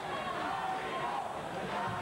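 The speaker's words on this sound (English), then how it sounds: "right now he's got the cheers of the crowd" A crowd cheers and roars for a boxer after a bout at an amateur boxing event, a steady wash of distant voices.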